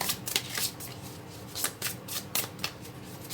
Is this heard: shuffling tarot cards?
yes